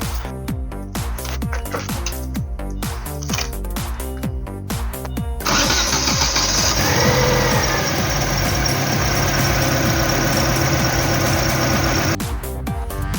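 A Chevrolet Kalos 1.4 16V F14D3 engine misfiring runs at idle with an uneven, rough rumble, steady and close, after a stretch of rhythmic mechanical knocking.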